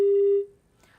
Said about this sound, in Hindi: गिरधारी लाल जी आपका फोन कट चुका है